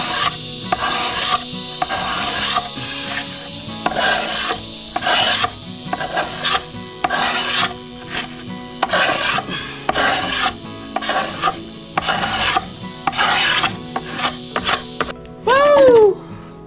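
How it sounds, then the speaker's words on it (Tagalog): Bamboo skin is scraped off with a blade in repeated rasping strokes, loud and close in an irregular rhythm with brief pauses, ending with a short higher squeak. "hindi madali yung pag-aalis ng balat ng kawayan"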